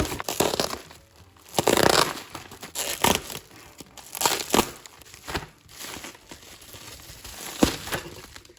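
Plastic packaging on a shipping parcel crinkles and tears in irregular bursts, close up and moderately loud, with rustling between the louder rips.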